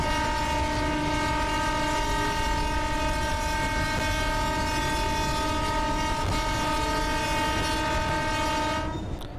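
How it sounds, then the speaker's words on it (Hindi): A local EMU train passes in the Open Rails simulator on the Sealdah–Dankuni route in India: a loud, steady, close rolling rumble with sustained horn-like tonal bands throughout, easing off only at the very end. "यहाँ से एक और लोकल ट्रेन आ रही है, हमको क्रॉस कर रही है एक और लोकल ट्रेन।"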